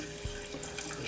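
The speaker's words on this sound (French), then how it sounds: "je rajoute de l'eau" Water poured from a tap into a pan of caramelized sugar while making maple-flavoured golden syrup, a brief steady rushing splash heard close up with no talking.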